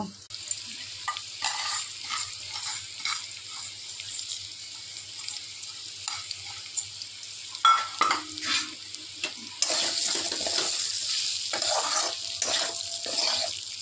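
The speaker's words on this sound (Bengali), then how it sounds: "আমরা মুগ ডালটাকে আর আলুর সাথে ভালো করে নেড়ে নেব" Mung dal being stirred into fried potatoes in a kadai, soft scraping and stirring strokes over a faint sizzle, growing louder and steadier toward the end.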